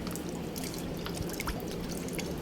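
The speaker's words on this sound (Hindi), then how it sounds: "इस वे में आपको पूरी बोरी निचोड़नी है।" Water drips and trickles steadily from a wet sack being wrung out by hand during a wrist-strengthening exercise, heard as scattered close patters over a continuous wash.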